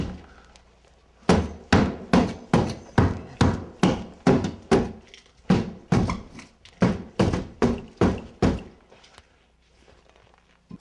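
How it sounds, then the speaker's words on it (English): A firefighter punches relief cuts into drywall with a hook, giving a fast, even series of about eighteen loud, close thuds with a short gap partway through, then quiet. "You can take the hook and make small cuts."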